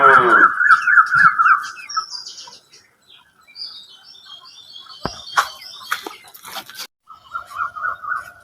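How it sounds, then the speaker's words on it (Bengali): Domestic country hens kept on a rooftop garden farm cluck and call in short harmonic bursts at close range, with quieter chirps between and another run of clucking near the end. "এগুলো আমাদের ঘরোয়া মুরগি।"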